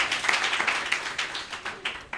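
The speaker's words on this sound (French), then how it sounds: "j'aimerais que vous l'applaudissiez très fort" A crowd at the launch of a citizens' democracy movement applauds a mayoral candidate for Mermoz Sacré-Cœur, with steady close-sounding clapping that rises and falls with no speech.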